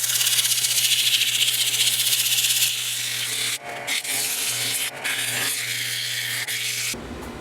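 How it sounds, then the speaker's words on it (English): A rosewood bowl spinning on a woodturning lathe while sandpaper rubs against it, a steady close hiss over the motor's constant low hum, broken by a few short pauses. "Okay, so now I'm all sanded up to 220."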